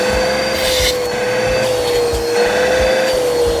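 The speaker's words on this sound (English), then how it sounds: "So we're going to vacuum this thing up really good in these crevices." A vacuum cleaner fitted with a crevice tool works the crevices of a chair, running loud and close with a steady high whine and rushing airflow that surges and dips as the nozzle is pushed in and moved along.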